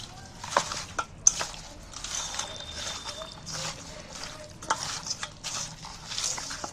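Chicken pieces are worked by hand with salt, turmeric and mustard oil, giving soft, close, wet squelching and slapping sounds in quiet, irregular bursts, with no talk.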